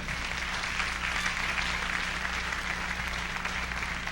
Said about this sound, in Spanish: ¿Cuánto da un aplauso al Señor por eso?